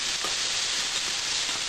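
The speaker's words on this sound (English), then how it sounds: "we'll simply brown this ham up a little bit, because it's going to cook again when we bake this" Ham browns in a pan alongside sausage, giving a dense, even frying sizzle that stays constant and fairly loud, with no talking.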